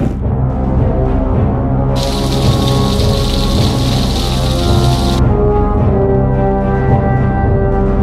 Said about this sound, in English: is now dumping huge amounts of rain on us here.